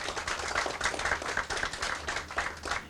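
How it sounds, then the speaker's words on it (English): Audience applause at a Prince George's County gathering, a steady crowd of hands clapping at moderate distance with dense, even patter throughout, no voices on top. "Can we give them a round of applause for the work they've done there?"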